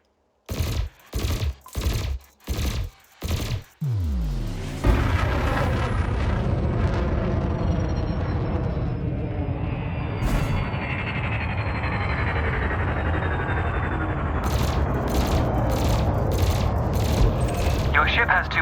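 Ship weapons fire at canisters during Elite Dangerous combat training: five evenly spaced loud blasts, then a long, sustained roaring stream of fire with a descending whine and a few scattered sharp hits near the end.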